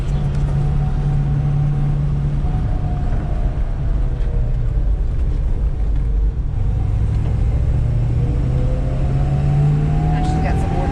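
A 1970 Dodge Challenger R/T with a 440 Six Pack V8 rumbling loudly and steadily up close on a cold start, deep low throb with slight rises in pitch, someone speaking over it.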